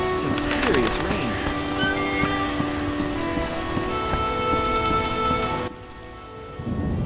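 Heavy rain pours down continuously in the video game The Witcher, a dense close hiss with tonal game music underneath, dropping away abruptly near the end.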